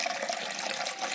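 Water pours steadily into a triops tank, a close, continuous rushing splash that lasts about a second with no voices over it.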